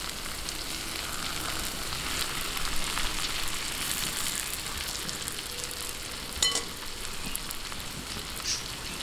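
Pork belly sizzles in a pan with garlic and onion, a broad, even crackle like light rain, close and continuous, with an occasional sharper pop or utensil tap.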